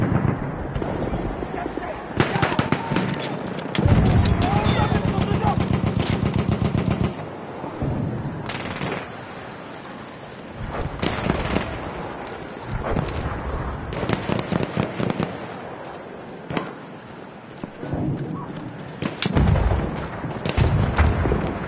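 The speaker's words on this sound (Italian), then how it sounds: "Bomba fırlatıyorum." Battlefield 1 gameplay in which a grenade is thrown amid heavy combat: dense rapid gunfire bursts and several booming explosions crowd the scene, continuous and loud throughout.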